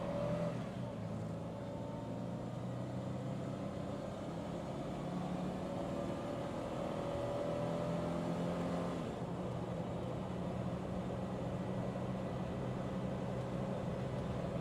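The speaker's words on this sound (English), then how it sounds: "So we're getting on the freeway from a dead stop." A supercharged 3.4L Toyota Tacoma pulls from a dead stop onto a freeway at full throttle, its engine and blower droning steadily upward in a long, continuous rising pull heard from inside the cab.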